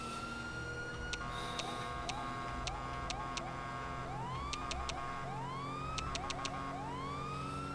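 Police car siren in GTA V, a wailing siren sweeping up and down repeatedly at moderate distance, mixed with sharp electronic chirps and beeps over a low traffic rumble, with no talking.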